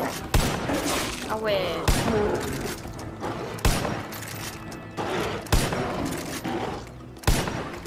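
A weapon fires in the Far Cry 5 zombie mode, loud shots spaced about every second and a half with sharp broadband cracks and debris clatter, under a man's brief remark.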